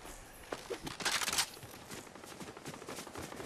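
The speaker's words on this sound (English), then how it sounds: "Gunshots, gunshots." Gunshots ring out as faint, distant bursts of rapid cracks, with a denser cluster in the middle, over low background noise and no talking.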